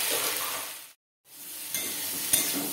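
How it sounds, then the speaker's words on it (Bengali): Vegetables seasoned with salt and ground turmeric sizzle and hiss steadily in a hot pan while being stirred, with a short silent gap midway and a faint utensil clink near the end. "একটু নেড়ে নেড়ে আমি কষিয়ে নিচ্ছি।"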